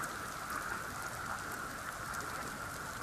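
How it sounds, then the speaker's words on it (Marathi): Heavy monsoon rain pours steadily in Ratnagiri amid flooding, a dense, even hiss of drops hitting water and surfaces that holds at one level throughout with no voices. "पाऊस सतत सुरू आहे"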